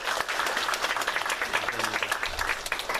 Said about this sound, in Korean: 축하의 박수 한번 하도록 하겠습니다.